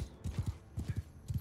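Horses galloping in Mount and Blade 2 Bannerlord, a busy run of close, punchy hoofbeats in quick clusters, loud and alone without talk.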